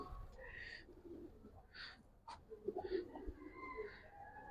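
High-flying giribaj pigeons coo quietly and intermittently, a few soft calls close by over faint background noise, with no voices.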